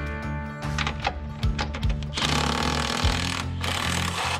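An impact gun or similar power tool loosens the 13 mm nuts holding the side-step brackets to the body of a stock Ford F-350 work truck, giving loud, close rattling bursts that stop and restart.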